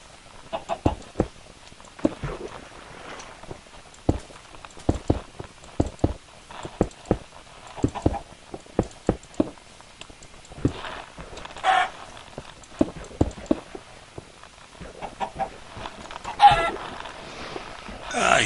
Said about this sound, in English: The sound of deceased chickens.